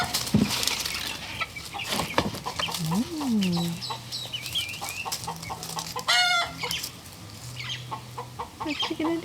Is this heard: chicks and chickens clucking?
yes